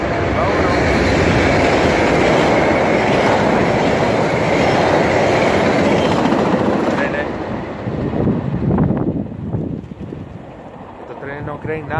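A train rolls past nearby, rail cars clattering and rumbling loudly with a constant roar of wheels on track, briefly squealing before the noise begins to fade toward the end.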